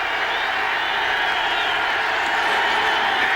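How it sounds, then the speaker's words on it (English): Dense, steady roar of a large football stadium crowd at the 1992 Rams at Cowboys game, rising slightly as fans are urged on, continuous and loud throughout with no distinct individual voices. "Casillas urges the crowd on."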